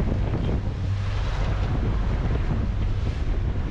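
Steady wind roars across the microphone aboard a Leopard 45 catamaran sailing the Black Sea on a dead run, with a low rumble of water and waves beneath, constant and unbroken.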